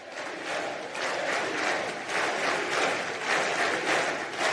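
A crowd at a Junts political event in Catalonia applauds Puigdemont's announcement of his candidacy for the Catalan elections, sustained rhythmic clapping in waves with cheering, heard at moderate distance.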